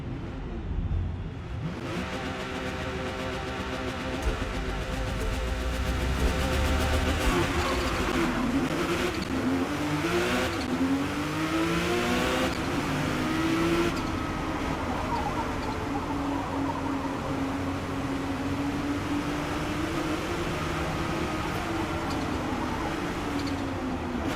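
A racing car engine in Forza Motorsport roars continuously, its pitch rising and falling through gear changes, with a rumbling low end and no talk.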